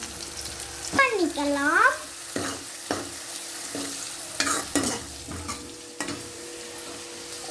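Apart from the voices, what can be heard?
ground onion and garlic frying and stirred in a pan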